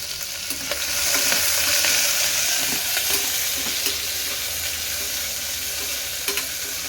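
Biryani masala with onion and green chilies sizzles steadily in a pan while a utensil stirs it, producing close, repeated scrapes and taps over a constant frying hiss.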